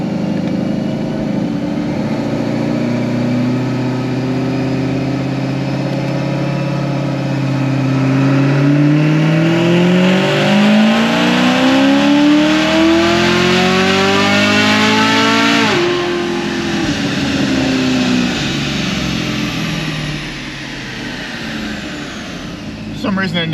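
An RPM Stage 4 ZL1 engine on pump gas roars through a cold dyno pull. It holds a loud, steady drone, climbs in pitch to a peak, then drops back and settles.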